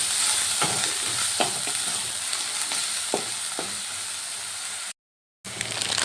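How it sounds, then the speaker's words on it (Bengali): A grated medium onion fries in hot oil in a pan, a steady loud sizzle with a few scraping stirs of a spoon, broken by a short cut to silence near the end. "এবার দিয়ে দিলাম একটা গোটা পেঁয়াজ গ্রেট করে রেখেছিলাম দিয়ে দিলাম একটা মিডিয়াম সাইজের পেঁয়াজ দিলাম এবার পেঁয়াজটা ভালো করে ভেজে নেব"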